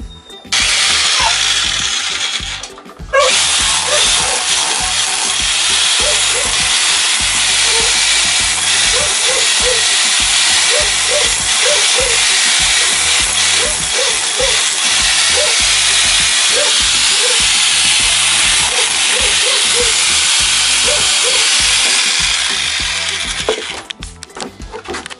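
A rotary hammer drill set to hammer mode chips into a floor, a loud, steady broadband rattling roar holding for over twenty seconds with faint repeated knocks beneath, briefly pausing near the start and winding down at the end.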